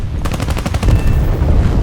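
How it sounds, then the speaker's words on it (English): Rapid gunfire from War Thunder combat rattles out in a quick burst of sharp shots and then gives way to a heavy, booming rumble like a large explosion. The sound is close and loud throughout. "Oh, that was a big explosion."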